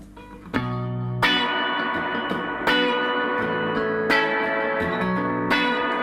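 Electric guitar through a Sweet Blackberry amp with its reverb mix turned fully up, several struck chords spaced a second or so apart, each blooming into a long washy reverb tail, played alone without talk.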